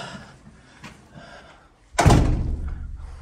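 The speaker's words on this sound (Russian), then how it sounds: "Хорошая, кстати, дверь. Ее не обязательно менять. Такая приличная, тяжеленькая." A heavy front door of a house swings shut with one loud, close thud, preceded by soft shuffling and quiet room noise, with a lingering low rumble afterward.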